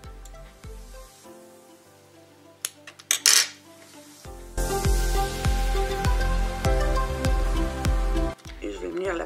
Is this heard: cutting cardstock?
yes